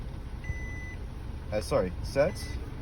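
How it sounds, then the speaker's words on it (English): A steady background hum carries a thin high tone, then a 2021 Mazda CX-5 gives two short electronic beeps close by, confirming a key fob setting, with no talking. "you'll hear the beep letting you know that it's already engaged"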